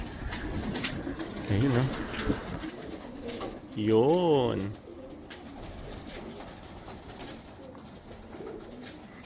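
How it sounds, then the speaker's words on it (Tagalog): Racing pigeons coo in a champion loft, two throaty bursts rising and falling close by, while someone speaks briefly between them over a low background murmur. "Gaganda ng ibon."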